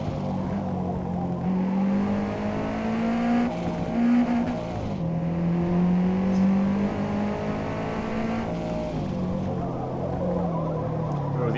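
Race car engine in Forza Motorsport droning steadily with rising and falling revs through turns, tires faintly squealing as grip runs out, continuous and close.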